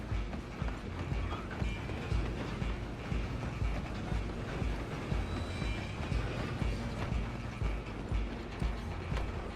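A steam-era train rumbles along the tracks in the video game Red Dead Redemption 2, with steady mechanical clatter and rhythmic hoofbeats of a galloping horse running alongside. The sound is dense and continuous, with no talk.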